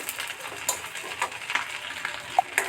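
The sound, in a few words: frying dried fish (shutki) in oil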